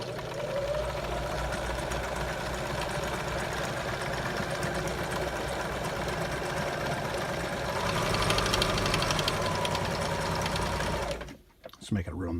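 A modern sewing machine with lay-in threading stitches in a steady, close mechanical hum that rises in speed near the end and then stops abruptly.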